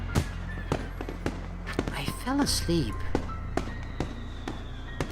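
Fireworks at a festival in the visual novel Katawa Shoujo, a steady run of sharp pops and cracks spread through the scene, with a brief spoken line and some tonal game sounds mixed in.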